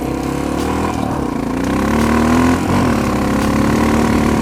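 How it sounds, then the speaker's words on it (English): A Honda XR650L motorcycle engine runs with possible valve noise, a steady close-up idle that swells slightly midway and then settles back, with no voices. "I've never had a bike that makes that noise."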